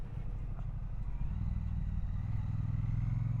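A 2025 Triumph Bonneville T120 motorcycle cruises with a steady, deep engine thrum and a constant low throbbing beat, mixed with rushing wind noise from riding along.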